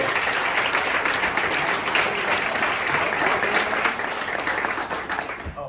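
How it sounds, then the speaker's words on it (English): Outdoor crowd applause for board members at the grand re-opening of the Ice Age National Scenic Trail's Rib Lake segment, a continuous dense clapping that stays fairly loud before thinning slightly toward the end. "Can you please raise your hand and take a round of applause?"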